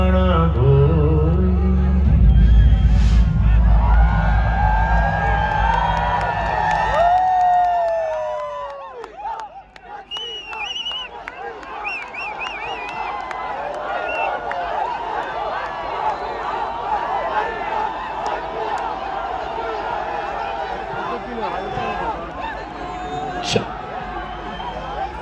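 A large crowd cheering at a star's show in Riyadh: a loud roar for the first several seconds, then settling into a steady hubbub of voices with scattered shouts, and a voice speaking over it.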